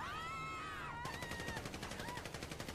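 Rapid gunshots from the video game GTA V Online, a fast regular burst of sharp reports starting about a second in and continuing to the end, preceded by a brief voice-like sound.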